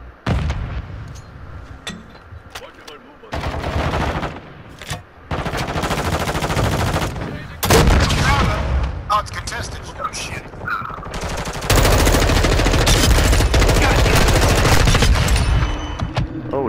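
Gunfire in Call of Duty Modern Warfare 2 comes as loud, dense automatic bursts and heavy booming shots in repeated long stretches, with voices talking over parts of the fight.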